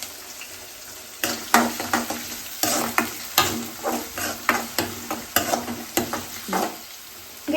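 Onions frying in hot oil in a home kitchen pan, a loud, steady sizzle broken by repeated scraping stirs of a spoon at a fairly regular pace, close up and with no talking.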